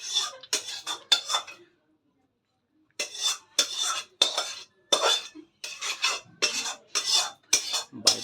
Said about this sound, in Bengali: আমি একটা প্লেটে ঢেলে নিচ্ছি